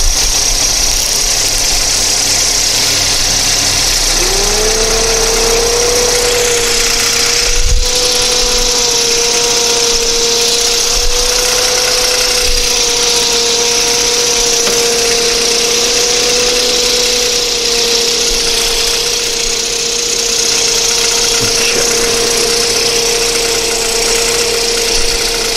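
A 1987 VW Cabriolet engine idles steadily at close range, a constant hum with a faint knock underneath that holds for the whole stretch, with no talking.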